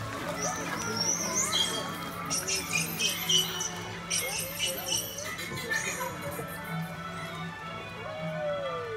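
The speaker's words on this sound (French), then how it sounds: "Il y a des sifflements qui servent aux dauphins à se reconnaître entre eux." Recorded dolphin whistles, high and repeated, rise and fall above a steady underwater background, with some slower sweeping tones near the end.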